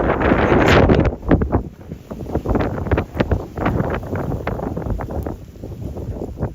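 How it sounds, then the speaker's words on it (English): A sudden gust of wind buffets the microphone during a chilly walk through Central Park in New York City, a loud rushing roar that peaks early, then continues as gusty rumbling with crackly bursts. "Out of nowhere, that was a gust."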